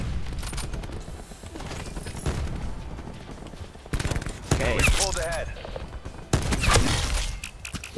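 Explosions and rapid gunfire from a Black Ops 4 match, including a cluster grenade blast, loud and dense throughout with bursts at about four and six seconds; voices mix faintly under the game noise.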